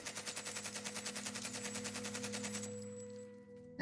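Sustained automatic covering fire in the video game Ghost War on PS4, a rapid rhythmic burst of gunshots for nearly three seconds that then cuts off, with no talk over it.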